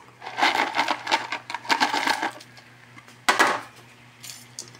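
Bihon rice noodles with cabbage and other vegetables are stirred in a pan, giving bursts of scraping and clinking utensil-on-metal sounds in an uneven rhythm, with a soft steady hum beneath.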